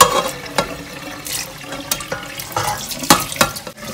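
Boiled lasagna sheets being drained, with water splashing and pouring through a strainer into a sink in a home kitchen; a continuous wet rush with several sharper splashes, close and moderately loud, no voices.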